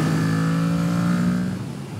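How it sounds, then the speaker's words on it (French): A motorcycle on a racetrack powers out of a corner with a loud, sustained engine drone close by that holds steady and then eases off slightly toward the end. "je reprends les gaz parce que ma moto a tourné, et je rejoins l'intérieur du virage ici et j'accélère"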